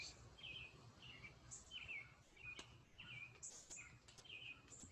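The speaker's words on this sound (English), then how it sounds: "Well, birds don't seem to care about the rain." Birds chirping outdoors in the rain, a series of short high repeated calls at regular intervals over faint background patter, quiet and at moderate distance.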